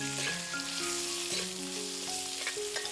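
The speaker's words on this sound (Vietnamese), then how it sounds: "Đổ thịt vô má khèo nè" Meat and snails frying in a pan for a banana and snail soup, a loud, continuous, close sizzle with stirring and clinking throughout.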